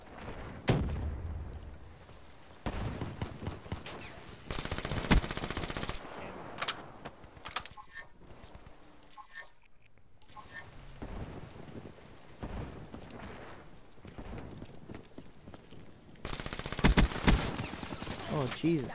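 Bursts of VMP submachine gun fire from a Black Ops 3 close-quarters fight come in loud rapid volleys with pauses between, while someone talks over them.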